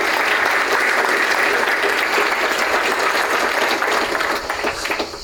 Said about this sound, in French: je pense qu'on peut l'applaudir déjà